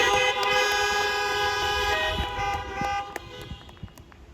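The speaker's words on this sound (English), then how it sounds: "Feel free to give yourself a honk." Car horns honk repeatedly in a long, loud, overlapping chorus of sustained toots, several vehicles at once, tapering off toward the end, at a drive-in college commencement ceremony.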